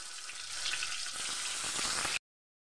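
Shahi paneer masala ingredients frying in a pan, a steady loud hiss of hot oil sizzling with faint stirring, cutting off abruptly.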